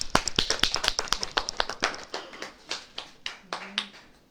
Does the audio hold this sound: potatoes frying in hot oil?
no